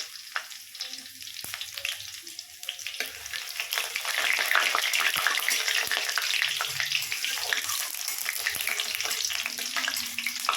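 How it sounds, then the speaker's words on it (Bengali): Steady, loud sizzling of dried chilies and garlic frying in hot oil, with crackling pops throughout and no talking. "এবার দেব দুটো তিনটে শুকনো লঙ্কা আর রসুন ফোড়ন। এটাকে একটুখানি ভেজে নেব।"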